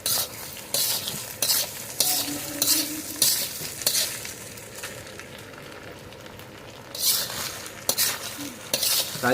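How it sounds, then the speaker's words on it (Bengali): Fried rice stirred in a hot pan, with rhythmic metal spatula scrapes and clanks against the pan over continuous sizzling, close and fairly loud, with a quieter stretch midway. "রাইসটা দেওয়ার সাথে সাথেই ভিউয়ার্স নাড়াচাড়া দিতে হবে যাতে নিচে না লেগে যায়।"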